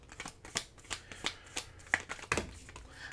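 Tarot cards being shuffled by hand close up, a quick series of riffling flicks and soft slaps in an uneven rhythm, with a little quiet talk underneath.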